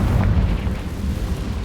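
A Confringo blasting spell detonates in Hogwarts Legacy, a heavy low rumbling boom that rolls on for the whole stretch with a dense, muffled burst character and no talk over it.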